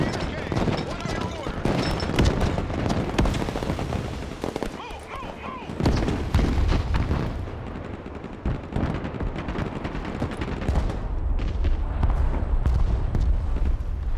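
Sustained gunfire in the military strategy game Broken Arrow, with dense bursts of rifle and machine-gun fire and heavy booming impacts rolling almost continuously, loud and close, while voices talk over the battle.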